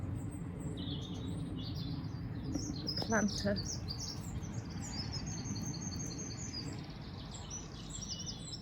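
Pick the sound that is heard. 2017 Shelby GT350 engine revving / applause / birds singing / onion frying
birds singing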